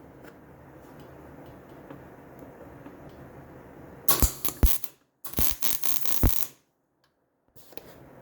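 A welder tack-welds a kickstand modification on a Baja Warrior, with a steady low hum giving way to two bursts of crackling, sputtering arc noise, then a brief crackle at the end.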